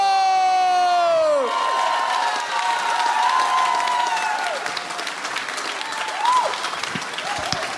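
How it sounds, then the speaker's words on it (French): A crowd at a comedy show applauds and cheers as a comedian is introduced, with whoops, shouts and whistles over steady clapping; the applause continues throughout. "On commence à applaudir pour Danick Martineau!"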